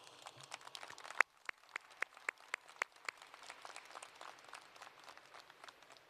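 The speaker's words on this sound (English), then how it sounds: "Please join me in recognizing the hard work, dedication, love, and support of your family members and friends by giving them a very loud round of applause." Scattered clapping at a high school graduation ceremony as the audience honors families and friends. One sharp clap stands out, then a few others follow. The sound is faint, sparse and distant, with no talk.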